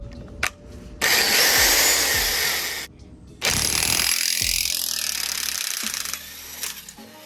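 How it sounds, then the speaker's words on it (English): An impact wrench with a 30mm socket hammers loudly in two long bursts, removing an axle nut on a Scion tC, with a brief pause between them, rattling harshly at close range. "get my 30mm socket with an impact, and we're just gonna go ahead and just drive this guy off"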